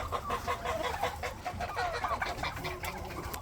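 A mixed flock of about 200 chickens and other poultry clucks and chatters continuously at a feeder made from an iron pipe, with the many overlapping calls forming a dense, busy farmyard din and no talking.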